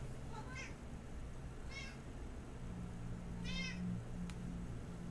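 A house cat meows repeatedly indoors close by, with several short, rising calls spaced apart over a steady low hum.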